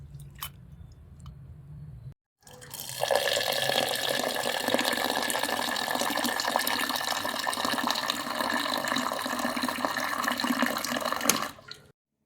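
Ration rice being washed in water, a continuous close sloshing and squelching rinse lasting about nine seconds after a brief quieter moment, with no talking.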